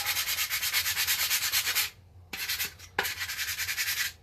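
Hand sanding a plastic Nerf gun: close, rhythmic rasping strokes of sandpaper in quick even bursts, pausing briefly after about two seconds with a couple of taps, then resuming the steady back-and-forth scrubbing.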